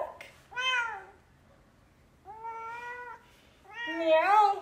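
Three drawn-out meows from a cat close by, separated by short pauses, the last one louder and more insistent.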